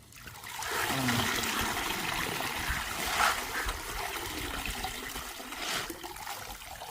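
River water sloshes and trickles close by as it is scooped up, with splashy pours rising and falling throughout, and no one speaking.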